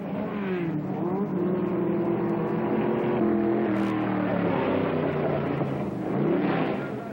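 A 1963-era sports racing car at the Riverside Grand Prix slows into the pits, its engine a loud, steady drone with shifting pitch throughout, and a brief rise in revs near the end.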